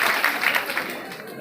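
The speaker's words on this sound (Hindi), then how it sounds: "मैं चाहूंगा इन तमाम लोगों के लिए जोरदार तालियां हो जाएं" An audience at a company stage programme in India breaks into loud, continuous applause. The dense, even clapping from many hands fills the whole moment.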